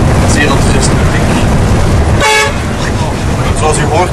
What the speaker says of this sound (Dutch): Zoals u hoort is het toeteren in dit land een soort nationale sport.